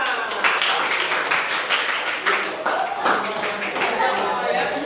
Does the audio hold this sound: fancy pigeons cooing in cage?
no